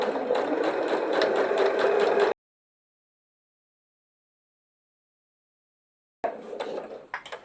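A sewing machine stitches through fleece for a glasses case, with a steady whirring run for about two seconds, a long silence, then a shorter burst of stitching near the end.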